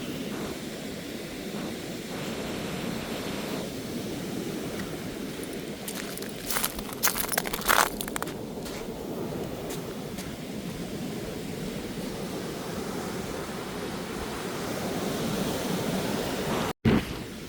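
Continuous roar of sea waves washing onto the shore at Pokkanai, Mullaitivu, steady and broad, with a few brief rustles and a sharp knock near the end.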